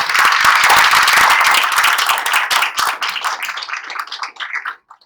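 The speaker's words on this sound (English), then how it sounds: "I want a big round of applause for our panelists and our keynote" Loud, close audience applause for panelists and a keynote speaker at a medicine and AI talk, dense clapping that thins into scattered claps and stops after about five seconds.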